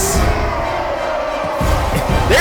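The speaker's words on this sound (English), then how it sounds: "They're cheering for the Alliance too." A large crowd roars and cheers for the Alliance in a World of Warcraft: Battle for Azeroth cinematic trailer, loud and continuous, with a dense swell of many voices and a few thuds in the mix.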